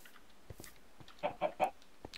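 A few soft, quick Minecraft chicken clucks in a row over a quiet background, with faint clicks around them.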